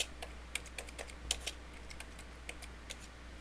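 Keys clatter on a computer keyboard as a credit card number is entered, a quick irregular run of crisp clicks, close but quiet, with no talking over them.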